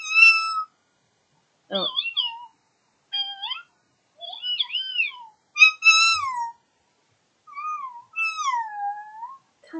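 Mew, the legendary Pokémon, cries in a Pokémon video game: a series of high, sliding, cat-like mews in short separate bursts with silences between, clear and alone, with a brief spoken exclamation.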